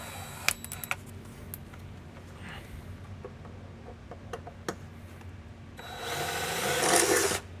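A handheld power drill with a standard 4.5 mm bit bores a pilot hole while a water tank is being installed. Scattered clicks and handling knocks come first, then a loud whirring buzz builds for under two seconds near the end.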